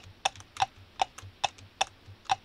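Computer keyboard keys clack in sharp, evenly spaced single presses during gameplay of a horse-riding obstacle game, about seven crisp taps close up with no talking.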